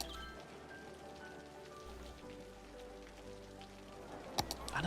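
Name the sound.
rain in video game Cities Skylines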